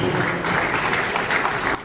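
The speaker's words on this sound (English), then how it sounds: "Please, a round of applause for him." An audience claps for a speaker introduced at a youth leadership programme, steady dense applause filling the whole stretch, fairly close and loud, tapering slightly at the very end.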